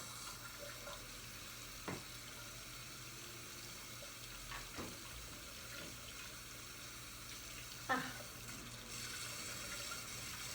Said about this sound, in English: you need to wash your hands thoroughly. So finding that water and liquid hand soap